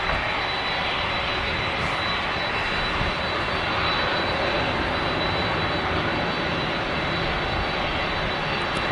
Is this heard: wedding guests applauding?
no